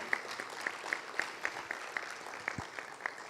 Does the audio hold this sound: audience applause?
yes